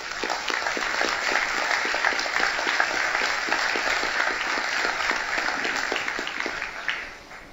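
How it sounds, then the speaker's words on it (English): Applause from a graduation ceremony audience for a trainee class, steady dense clapping for about seven seconds before fading out at the end. "we'll just give you a little round of applause"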